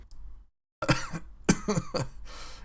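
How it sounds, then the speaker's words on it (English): A few sharp coughs, close and fairly loud, break out after a short silence, mixed with raspy breathy sounds. "He laughs and coughs at the same time."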